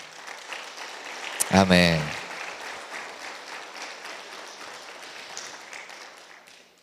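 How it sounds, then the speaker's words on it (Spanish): A church congregation claps during a worship service, a dense spread of hands heard from the start; one voice briefly calls out loudly early on, and the clapping continues evenly afterward. "Dale palmas al Señor."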